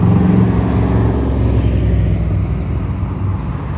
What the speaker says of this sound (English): Is that a Corvette?